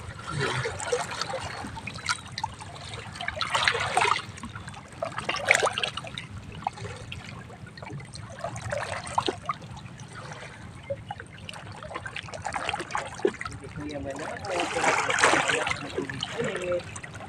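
Water trickles and splashes steadily, with surges of brighter splashing every few seconds over a low background rumble; no one speaks.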